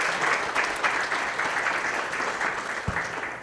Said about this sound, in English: let's give a round of applause for Marsha and Aiden Aizumi and Hayden